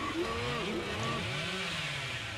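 Bubba's chainsaw in Dead by Daylight revs in rising, wavering sweeps, fairly close, with engine pitch climbing and falling several times in quick succession.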